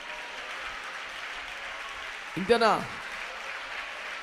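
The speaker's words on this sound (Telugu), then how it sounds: "కొట్టనోసారి చప్పట్లు చూద్దాం ఎట్లుంటుందో" A church congregation claps together during a worship sermon, a steady, even wash of hand claps running throughout, with a voice briefly speaking partway through.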